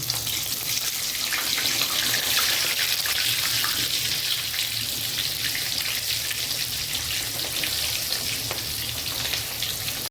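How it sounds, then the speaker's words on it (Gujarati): Steady, dense crackling and sizzling of stuffed baby eggplants deep frying in hot oil for undhiyu, continuous and fairly loud throughout with no voices. "રવૈયાને આપણે આવી રીતે તળી લઈશું ત્રણ ત્રણ ચાચા મૂકીને"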